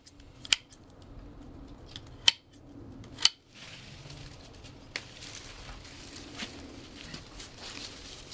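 Pruning shears snipping the thorny fronds of a sago palm (Cycas revoluta) outdoors, three sharp isolated clicks spaced a second or so apart followed by fainter rustling and a lighter snip, close and otherwise quiet.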